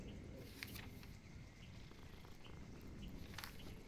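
A kitten purrs softly in the video game Grim Legends, a quiet continuous low rumble over faint background ambience with a few light chirpy clicks.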